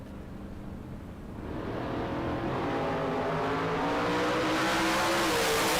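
A Corvette Roadster drag car accelerates hard at a drag racing event, its engine building from a rough idle into a loud, rising roar over several seconds, with no talk over it.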